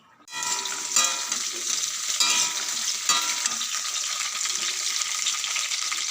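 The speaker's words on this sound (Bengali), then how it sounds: "সেই পটলটা ভাজা বসিয়ে দিয়েছি" Pointed gourd frying in a pan at home, a loud continuous sizzle starting abruptly and holding steady with light crackling and spatter throughout, close and alone.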